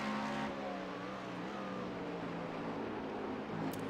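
Cadillac LMDH prototype race car in iRacing at Watkins Glen, its engine droning at a steady high pitch with slight rises in revs, heard as a continuous, fairly quiet onboard hum.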